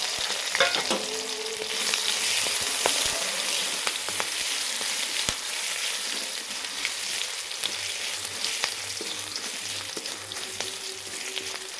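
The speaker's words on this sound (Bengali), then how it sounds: "আমি যেগুলো ফোড়ন দিয়েছিলাম সেগুলো সব ভাজা হয়ে গেছে।" Steady, close oil sizzle as a Bengali tempering of five-spice (panch phoron), a bay leaf, dried and green chillies and crushed ginger fries in a pan for a vegetarian shukto, with occasional stirring clinks and no talk.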